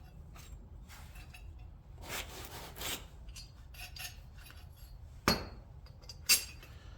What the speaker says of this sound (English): take another plate and put on there and tighten it down